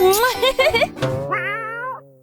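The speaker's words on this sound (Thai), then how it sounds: "โอ้ แมวน่ารักจังเลย" A cat meows in a long, rising and falling call after a stretch of excited human talk, clear and close by.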